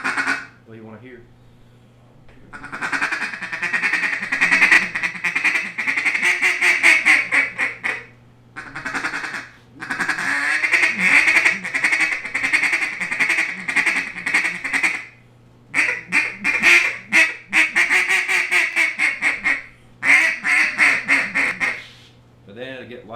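A 1909 Olt duck call is blown in long, loud, raspy quacking sequences, rapid repeated notes in rhythmic runs broken by short pauses, close and dominant throughout.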